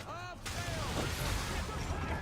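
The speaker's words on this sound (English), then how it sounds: "Why is he shooting at us?" Ship cannon fire in Assassin's Creed 3 rumbles in a dense, sustained barrage of booms and crackling blasts, loud and close, following a brief voice at the start.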